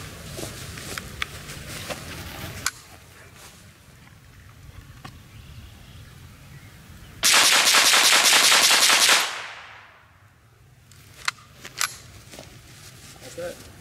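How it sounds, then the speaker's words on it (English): Twenty rapid-fire gunshots aimed at a milk jug across two magazines, heard as a dense, loud continuous burst lasting about two seconds, with scattered single shots before and after, and people talking at an outdoor range. "you shot 20 rounds in there between the two magazines"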